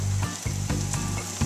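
Butter and a little olive oil sizzle steadily in a pan as the base for a roux, a continuous close frying hiss with a few brief stirring clatters and no talk.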